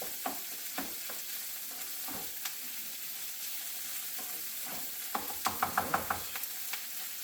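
Onions and carrots fry in a pan with a steady, soft sizzle, and a quick run of sharp spatula clicks against the pan near the end, close and quiet, with no voices.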